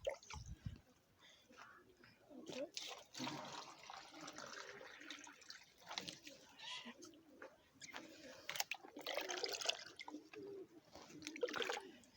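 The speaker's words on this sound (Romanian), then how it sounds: "Le iau sau arunc apa din ele și le spăl." Water poured out of rabbit bowls as they are washed, with intermittent splashes, trickles and drips against a low background of handling noise.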